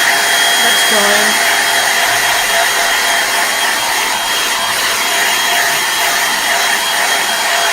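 A hair dryer blowing on acrylic paint on a canvas, a steady close whooshing hiss that holds level throughout, with a few faint low sounds near the start.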